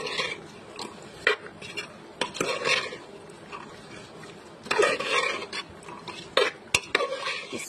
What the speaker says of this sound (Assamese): এতিয়া এইখিনি মছলাখিনি দি আকৌ এবাৰ মিক্স কৰি দিম।